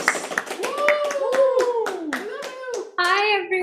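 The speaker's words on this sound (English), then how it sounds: "let's give a warm round of applause to our very, very beautiful and amazing speaker" Audience at a business summit launch claps for a guest speaker, with a steady run of sharp hand claps and rising and falling whoops and cheers layered over it. The sound is lively and fairly close.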